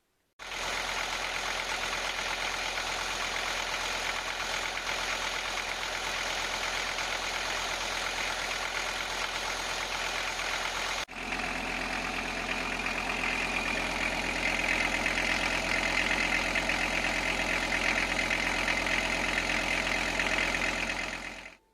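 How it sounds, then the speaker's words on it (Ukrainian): A Volkswagen T4 van engine idles steadily and close by for the whole stretch after crankshaft bolt repair, a low even rumble with a brief dip in tone midway. "Мотор працює"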